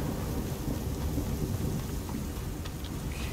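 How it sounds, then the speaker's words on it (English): Thunderstorm in the video game Horizon Forbidden West: steady heavy rain hisses under a continuous low rolling rumble of thunder, dense and loud throughout with no voices. "That's why there seems to be a storm here."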